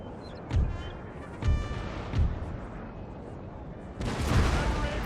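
Artillery cannon fire in the Napoleon: Total War battle game, with three separate deep booms about a second apart, then a longer, louder rumbling volley. Game music and ambient battle noise continue underneath throughout.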